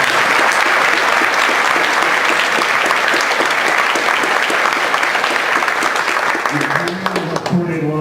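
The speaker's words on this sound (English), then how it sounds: "I really want to give him a huge round of applause for leading this." A conference audience applauding, dense sustained clapping from a large crowd filling the room at close range, thinning slightly near the end as a voice briefly comes in.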